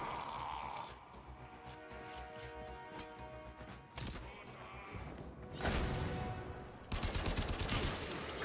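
Rapid gunfire from a gun in Warframe, sharp repeated bursts that grow denser and louder toward the end, set against a busy game soundscape.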